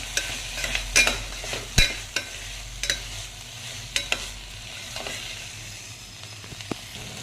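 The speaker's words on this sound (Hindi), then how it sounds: "आता कुठच्या फोडणीत मटकी टाकूया" A cup of moth beans (matki) stirred into hot tempering with tomato and salt in a pressure cooker: sharp, intermittent scraping and clacking stir strokes over a low sizzle, close and uneven in rhythm, no voices.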